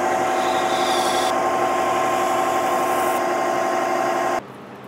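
A 5.5 mm drill bit bores steadily into material on an AltMill 4x8 table frame build, a loud continuous grinding whir that holds for about four seconds before cutting off abruptly into quiet, with no talking.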